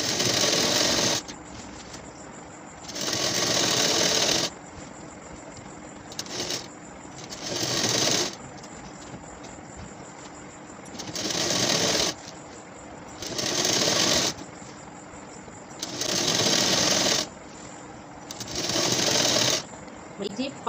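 A sewing machine stitches a falls border onto a saree in repeated bursts of rapid, loud mechanical whirring, each lasting a second or two and separated by short pauses, with a faint voice talking in the gaps.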